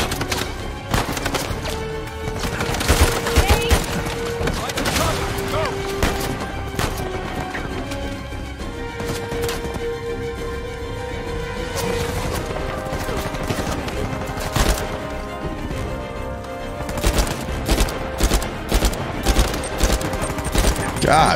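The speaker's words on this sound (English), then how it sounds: "I don't know how many shots it takes to kill that sniper" Rapid bursts of gunfire from a shootout with a sniper in the video game Uncharted 4, dense repeated shots over a busy game soundscape, loud and close throughout.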